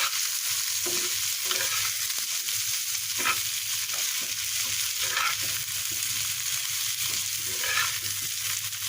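Pointed gourd slices seasoned with salt and turmeric fry in hot oil with onion and chili, a steady close sizzle broken by several scraping stirs of a spatula, with no talk.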